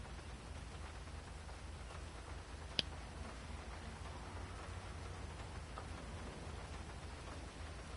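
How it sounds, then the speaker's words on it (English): Rain falls during a GTA V Online race, a faint, steady hiss of rainfall with light ticking drops, one brief sharp click partway through, and no voices. "And the rain just settling in."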